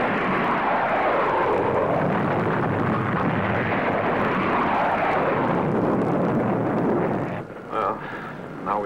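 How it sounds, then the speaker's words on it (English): Spacecraft braking rockets fire in a vintage sci-fi space adventure, a loud, steady roaring rush sustained for about seven seconds before dropping off, followed by faint lingering rumble. "I'll fire the braking rockets."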